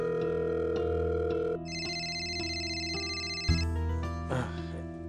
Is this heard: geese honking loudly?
no